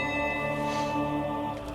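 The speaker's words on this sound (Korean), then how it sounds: "기적의 종소리가 들려오고 있었습니다." A bell rings with a sustained, shimmering tone that hangs steadily, moderately loud with a soft haze of resonance and no voices.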